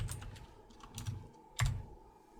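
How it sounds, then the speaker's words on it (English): Computer keyboard typing of a PowerShell command: a few soft, scattered keystroke clicks in quick clusters, close by but quiet, with no talk. "I'm going to go ahead and type in get module."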